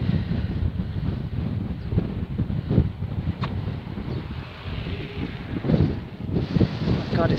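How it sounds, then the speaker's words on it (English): Strong wind buffets the microphone in a steady, roaring rush on a boulder-strewn shore at Morecambe Bay, England, with gusts rising and falling and a faint wash of surf underneath. "God, it's so windy again now."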